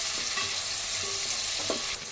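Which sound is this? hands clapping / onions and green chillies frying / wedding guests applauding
onions and green chillies frying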